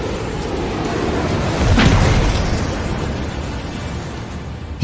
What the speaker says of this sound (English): These are proximity missiles and should detonate near the aircraft.